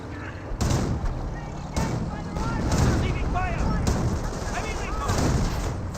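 Anti-tank gun firing in the game Company of Heroes, sharp blasts at intervals over a busy battle din of gunfire and rumbling, with a voice talking throughout.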